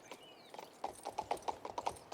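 Horse hooves in the video game King's Bounty II, a quiet, steady clip-clop gait with evenly spaced hollow knocks, faint and alone.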